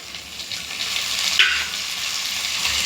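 Finely chopped medium tomatoes sautéing with onions in a pan give off a steady, close sizzle and frying hiss, with a faint stir scrape partway through and no talking.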